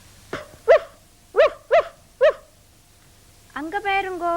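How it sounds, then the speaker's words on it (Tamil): A puppy gives a run of five short, sharp barks spaced about half a second apart, close and clear against quiet, followed by a person speaking. "அங்க பாருங்கோ, ஒரு நாய்க்குட்டி."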